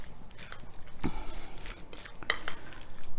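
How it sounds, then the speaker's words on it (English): Tuna salad with parsley and dried dill being mixed in a bowl: a run of close clinks, scrapes and soft wet squelches from a utensil working through the ingredients, irregular and fairly loud. "so let's give this a mix up"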